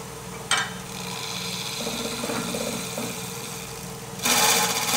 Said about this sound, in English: let me turn my lathe on. I got to remember to turn this in reverse.